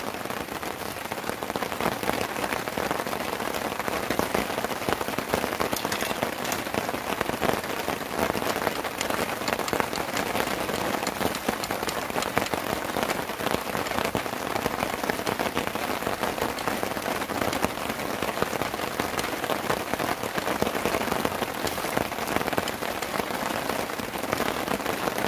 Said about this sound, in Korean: 빗소리가 크다.